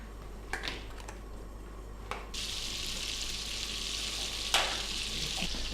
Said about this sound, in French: je fais fondre 100 g de beurre